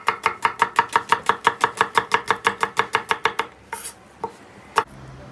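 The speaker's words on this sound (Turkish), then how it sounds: "Soğan da bol doğrayacağım." Rapid, steady knife chops through onions on a board, about twenty evenly spaced strikes, close and crisp, then a pause with a few scattered clatters.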